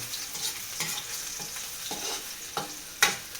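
Garlic frying in a hot pan, a continuous crackling sizzle punctuated by several sharp spatula scrapes and stirring knocks, close and fairly loud, with no talking.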